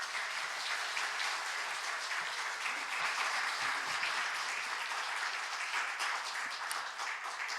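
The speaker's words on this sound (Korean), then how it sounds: "강사 모습 나오실 때는 큰 박수로 맞으시기 바랍니다." A church congregation at a Lent revival service applauds the guest speaker with loud, dense, continuous clapping that stays even throughout.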